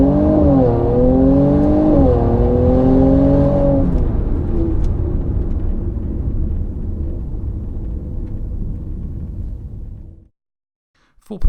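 A 2019 Mercedes-AMG C43 accelerating hard from 0 to 60 in comfort mode, engine rising in pitch through one upshift, then a fading rumble before it cuts to silence.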